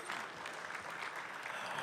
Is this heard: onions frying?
no